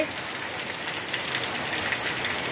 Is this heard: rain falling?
yes